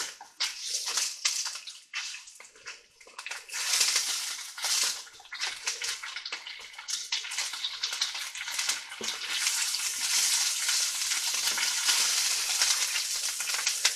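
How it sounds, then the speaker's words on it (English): Sesame seeds pop and sizzle in a pan while tofu in soy garlic marinade fries, giving continuous crackling hiss with sharp little pops, close and moderately loud, with no talking. "turn this down a little bit because I have popping sesame"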